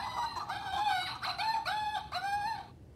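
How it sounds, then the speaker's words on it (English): A hyena's laughing call, a quick series of rising and falling whooping, giggling notes, moderately loud over a low background hiss with no talk. "It's a hyena."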